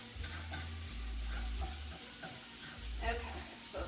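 Vegetarian zucchini boat filling cooks in a hot pan, giving a steady close sizzle broken by a few stirring scrapes, with low hum underneath.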